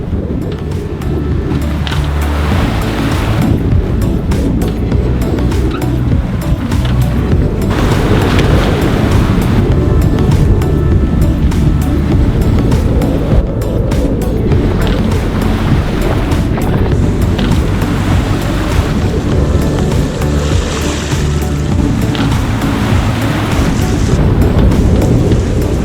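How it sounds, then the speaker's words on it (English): Squall wind roaring across the microphone and waves surging around a sailing boat crossing the Indian Ocean, loud and continuous with gusts swelling and easing over the whole stretch. "Surrounded by squalls."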